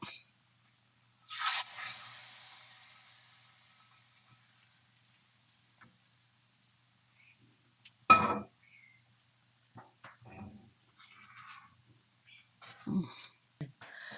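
Liquid poured into a hot pan of fried asafoetida and fenugreek tempering for a restaurant-style fish curry, one loud sizzling burst that fades over several seconds, followed by faint kitchen clatter and a brief later hiss.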